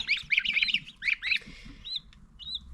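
Quacking and squawking calls from mixed-breed ducks in a rapid burst, then a few scattered calls, with faint low murmuring underneath.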